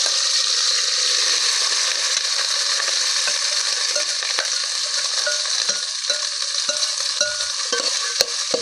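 Spice masala hits hot oil and sizzles in a steady, loud frying hiss, with faint stirring and small pops and no voices.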